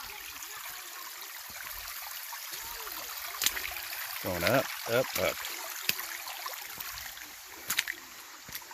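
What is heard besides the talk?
creek water flowing along trail, Turkey Run State Park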